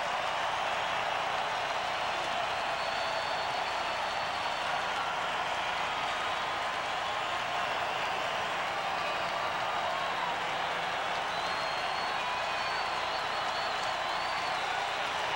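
A large ballpark crowd roars and cheers steadily in the ninth inning of a 2002 Diamondbacks versus Dodgers game, a dense sustained wash of noise that stays loud throughout with no break.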